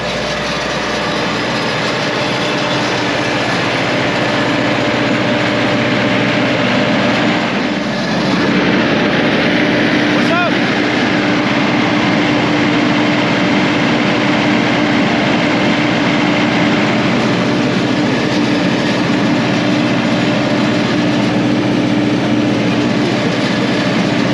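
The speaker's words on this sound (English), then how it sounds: "one thing they have, which is really awesome, is a generator" A home generator running during a winter power outage, a loud, constant engine drone with a steady hum that holds unchanged throughout, close by and with no talking.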